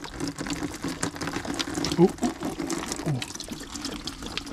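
Old antifreeze coolant pours and trickles from a car's cooling system, a steady liquid splash with gurgling spurts, close by, with people talking over it.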